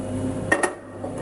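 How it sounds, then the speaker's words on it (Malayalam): A metal cooking pot set down on a lit stove gives two quick clanks close by, followed by a faint settling knock, with a low kitchen hum behind. "അടുപ്പ് കത്തിച്ച് അടുപ്പിലേക്ക് പാത്രം വെക്കുന്നു."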